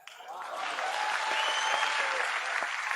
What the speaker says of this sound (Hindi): बजाइए तालियां यार